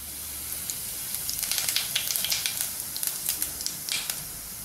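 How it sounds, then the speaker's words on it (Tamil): Cumin seeds sizzle and crackle in hot oil, tempering for a Chettinad pepper chicken curry, a steady hiss dotted with rapid close popping bursts that grow busier midway. "தாளிக்கிறதுக்கு சீரகம் மட்டும் போடுவோம்."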